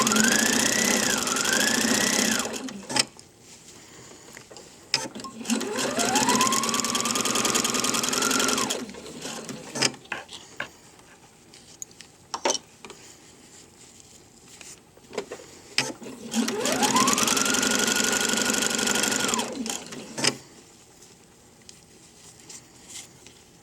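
A sewing machine stitches two layers of PUL fabric for a cloth diaper, running in three long loud bursts with rising motor whine, separated by quiet pauses with small handling clicks.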